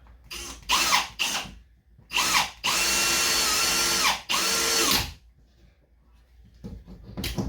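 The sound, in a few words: power drill driving a screw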